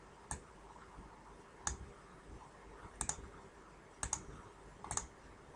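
A computer mouse clicks in a spreadsheet, five or six sharp, close clicks spaced over a faint room hum, some of them quick doubles, with no voice.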